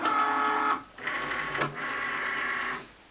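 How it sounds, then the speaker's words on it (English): A Cricut cutting machine cuts an infusible ink transfer sheet, giving a steady mechanical whir with brief pauses and a short clack, fairly quiet and close. "Now I'm going to let the machine cut this."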